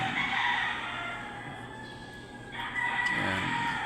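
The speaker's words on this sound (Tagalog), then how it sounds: "may mga ilang manok na rin." A rooster crows in a long, drawn-out call, then starts another, loud and near, with faint clucking from other chickens around it at a rural gathering.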